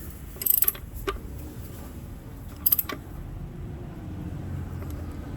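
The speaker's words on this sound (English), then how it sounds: "I'm going to start with snugging this banjo bolt right here." A ratchet snugs a banjo bolt on the oil cooler of a Dodge Dart 1.4L turbo, two short bursts of quick metallic clicking close by, separated by a pause, with no talking.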